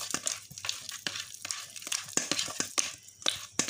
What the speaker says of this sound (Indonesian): Kita kocok terlebih dahulu mentega